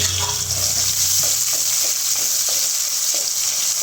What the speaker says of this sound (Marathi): हा स्लाईस केलेला मी कांदा घेतला आहे हा छानपैकी तेलामध्ये